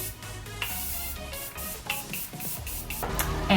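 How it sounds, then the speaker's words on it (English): Short hissing spritzes of Morphe Prep and Set makeup setting spray repeat in quick bursts, close and fairly loud. "I'm using again the Morphe Prep and Set makeup setting spray"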